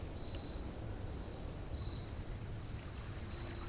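Steady cricket chirping in a video game ambience, a thin high-pitched trill running continuously over a low rumbling background, with no voices.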